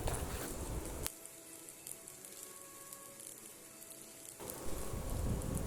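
Coriander leaves and grated coconut sauté in a hot pan for a Tamil malli chutney, giving a steady, close crackling sizzle that drops quieter midway and then swells loud again, with no talking.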